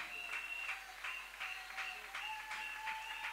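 A church congregation applauding during a worship service, a steady wash of clapping with rhythmic surges roughly every half second, heard from a moderate distance with a faint sustained musical tone running underneath.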